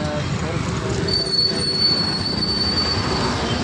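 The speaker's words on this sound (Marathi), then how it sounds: "इथे एक मेट्रो आहे, ती पाहू शकतो दिसतच असेल तुम्हाला" A metro train runs along an overhead line near a station in Pune, its wheels squealing in a long high screech over a steady rumble of rolling cars, loud and close throughout.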